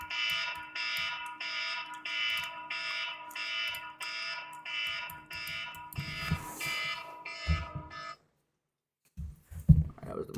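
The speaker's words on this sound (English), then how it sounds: "That was the market alarm." A stock market open alarm during live day trading, a rapid series of loud electronic beeping bursts, then some muffled knocks and a brief silence.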